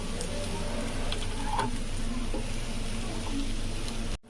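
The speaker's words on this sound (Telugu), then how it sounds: "శామగడ్డ ఫ్రై కంప్లీట్ అయింది." Elephant foot yam (shamagadda) pieces frying in a pan, giving a steady soft sizzle with faint stirring scrapes and light pops before cutting off abruptly.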